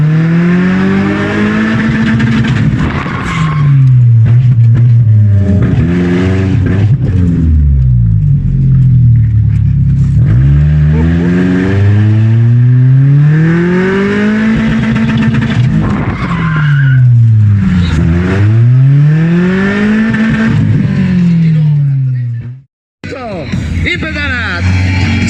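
Stunt cars at a motor show drive on two wheels, engines revving up and down in repeated sweeping surges with tire skids and crowd noise, loud and close, then cut off near the end.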